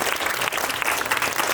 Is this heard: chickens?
no